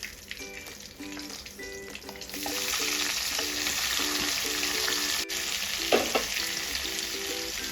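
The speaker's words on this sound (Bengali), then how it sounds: "এই তেলেই দেবো পেঁয়াজ।" Onions go into the oil left in the pan after sautéing chicken for chicken kosha and fry with a loud, steady sizzle, while a utensil clinks rhythmically in the pan as it stirs.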